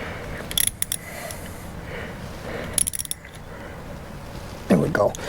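A small 10mm bolt is tightened on a Yamaha TW200 shifter and skid plate, giving a few sharp metallic ratchet clicks in two short bursts. A louder clunk follows near the end over a quiet background.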